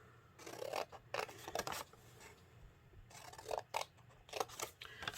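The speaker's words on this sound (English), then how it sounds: "we're going to cut up on the score line, the second score line" Scissors snip along the score line of small handmade paper boxes in a run of quick, close, crisp cuts separated by short pauses, with faint papery rustling between them.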